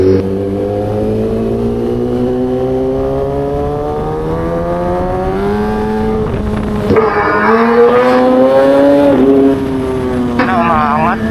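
An Orion vehicle's engine drones steadily while riding on the road to San Fernando, Pampanga, its pitch climbing gradually as it accelerates, with a brief voice rising over it midway.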